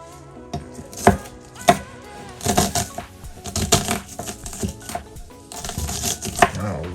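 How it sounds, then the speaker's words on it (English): A knife chops through stuffed sweet plantains on a cutting board, giving a series of irregular, close, crisp thunks and taps in an uneven rhythm without any talk. "let's go ahead and chop this up"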